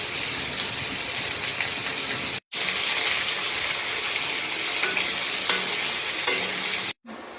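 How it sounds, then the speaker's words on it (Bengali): Chopped onions fry in hot oil with bay leaf and chili, producing a loud, dense, continuous sizzle with faint stirring clicks, cutting out briefly twice. "বেকার পেঁয়াজ কুচিটা হালকা লাল লাল করে ভেজে নেব"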